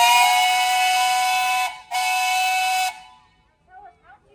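A steam whistle at a farmers' and threshermen's jubilee parade in New Centerville gives two long, loud, steady blasts, separated by a brief gap, then cuts off, leaving quiet crowd sounds.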